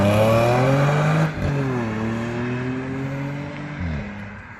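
An Audi S5 pulls away hard, its engine note rising strongly, then dropping sharply at a gear change, climbing again and shifting once more near the end, loud and close with no talk over it.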